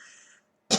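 A single short cough bursts out after a near-silent pause, preceded by a faint bit of voice, close and fairly loud.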